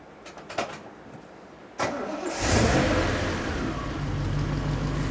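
A Jeep CJ-2A cranks with a few brief clicks, then fires up with a loud roar and settles into a steady, rumbling idle close by.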